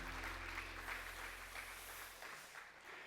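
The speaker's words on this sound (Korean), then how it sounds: "여러분 다시 한번 박수로 축복해 주면 좋겠습니다." A church congregation applauds during a Korean Sunday worship service, a soft, steady patter of clapping over a low hum, fading slightly toward the end.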